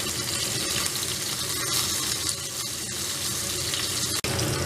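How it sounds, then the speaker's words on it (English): A rack of lamb sears in a hot pan with garlic, butter and thyme, giving off a loud, dense, continuous sizzle and spatter with no let-up. "then we're going to add our garlic, butter and thyme, and then sear it again for another 2 minutes"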